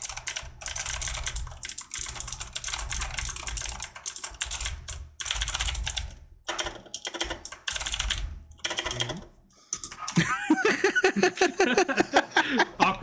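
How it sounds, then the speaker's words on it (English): Fast, continuous clatter of typing on a computer keyboard, close and crisp in dense bursts with short gaps, and a little laughter near the end. "ASMR typing stream."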